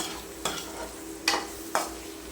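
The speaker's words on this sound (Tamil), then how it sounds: "இது எல்லாத்தையும் நல்லா வந்து மிக்ஸ் பண்ணி விட்டுக்கலாம்." Boiled, peeled potatoes being stirred in a frying pan for a Tamil potato fry, with three distinct scraping strokes of the spoon over a soft, steady sizzle.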